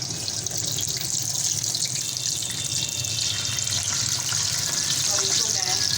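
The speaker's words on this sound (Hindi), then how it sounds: "तो दरमियानी आंच पे मैं इनको फ्राई करूँगी।" Chicken pieces frying in hot oil over medium heat, a steady loud hiss and crackle that runs unbroken throughout.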